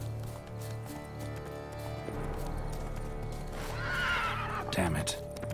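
A horse in The Witcher 3 video game whinnies loudly among hoof clip-clops, with a steady musical backdrop; a strong neigh rises toward the end.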